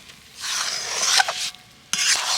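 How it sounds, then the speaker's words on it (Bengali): Semolina is stirred and mixed in a pan for taler pitha. A spoon scrapes and rubs steadily and close by, with a brief pause before the scraping resumes loudly. No voices are heard. "সুজিটা দেওয়ার পর এইভাবে খুব সুন্দর করে নেড়ে ছেড়ে মিশিয়ে নিতে হবে"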